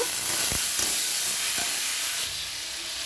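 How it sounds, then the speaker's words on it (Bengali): Chopped onions frying in hot mustard oil with a little sugar for a prawn malai curry, giving a steady close sizzle and hiss throughout, with a few soft stirring knocks. "পেঁয়াজটাকে লাল লাল করে ভেজে নেব।"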